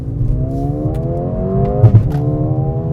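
A Mercedes CLA35 AMG in manual mode and Sport Plus revs its engine near the rev limiter, rising steadily, then a couple of quick shift blips mark an automatic upshift; loud, close engine sound with no talking.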